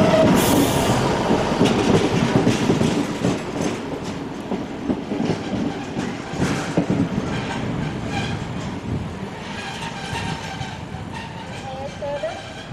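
A 1962-era rail motor pair rolls past at Steamfest 2017, a loud continuous rumble with rhythmic clickety-clack of wheels over rail joints and a brief high wheel squeal near the start.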